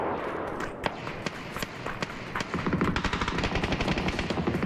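Rapid bursts of automatic gunfire in the PUBG battle royale video game, sharp repeated shots crackling close by, growing denser and more continuous toward the end.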